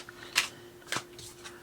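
Tarot cards riffle in a few short, soft bursts, the deck a little stiff, quiet and close with no voices.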